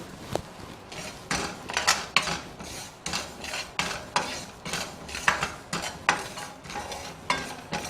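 Ajwain (carom seeds) with cumin dry-roasting in a pan, stirred with a spatula that scrapes the metal in repeated rasping strokes about every half second, close and fairly loud, with no talk.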